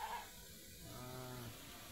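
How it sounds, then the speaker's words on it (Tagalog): A goat on a mountainside gives one wavering bleat after a brief noise at the start, fairly faint against an open outdoor background. "May kanding jud."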